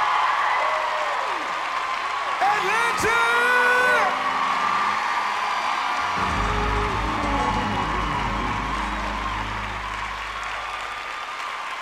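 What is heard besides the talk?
concert audience clapping hands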